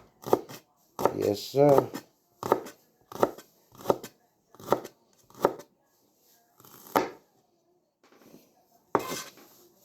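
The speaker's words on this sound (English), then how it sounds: "Now you see, I'm cut this onion up, this green onion up, and get it all cut up real nice." Green onion chopped on a board with a knife, sharp separate thuds in uneven bursts, some quick runs of strokes, close and loud with silence between; someone speaks briefly.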